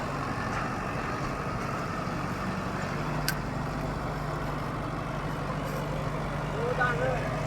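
Swaraj 855 (50 hp) and Novo 755 (75 hp) tractors pull a harrow through a field, their heavy diesel engines droning in a steady, continuous low rumble from start to finish.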